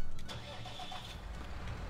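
A vehicle engine in Farming Simulator 19 cranks and catches, then settles into a steady mid-pitched idle, close and fairly loud, with no talking over it.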